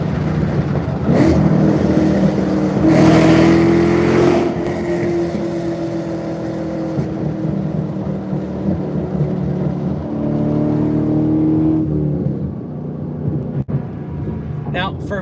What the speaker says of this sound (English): for me, that was a downshift and a little pull